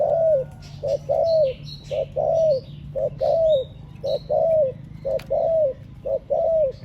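A caged decoy dove coos in a steady repeating pattern, each call a short rising-falling note, close and clear over a faint low hum with occasional distant chirps; a veteran Thai decoy bird, short-legged and low-bodied.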